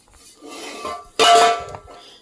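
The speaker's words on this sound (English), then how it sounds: "Just whacked the silencer off." A sharp metallic clang rings out as the silencer is whacked off an ATOM 80 two-stroke light-aircraft engine, close and loud, after a stretch of softer scraping and clatter.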